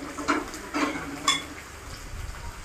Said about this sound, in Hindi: तड़का डाल दी हूँ दाल को फ्राई करने के लिए